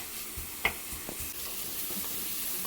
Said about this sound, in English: I could render this bacon down really, really slow and get a lot of fat out of it